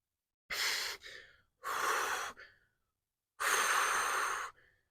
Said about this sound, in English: Sorry about all the breathing. It's just a lot colder than I remember.